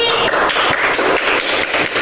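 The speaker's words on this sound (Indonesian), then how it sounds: "Tepuk tangan lagi." Primary school pupils in an Indonesian classroom clap together during a lesson on plankton, loud, close, continuous clapping with a rhythmic pulse filling the short stretch.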